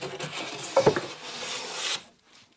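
A waxed No. 4 hand plane shaves a wooden moulding, giving a single smooth rasping stroke of about a second, close and clear, with a brief knock near the start and quiet afterward.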